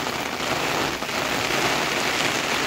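Steady monsoon rain pours down beside a pond, a dense, even hiss of drops on water and surfaces with no pauses and no voices.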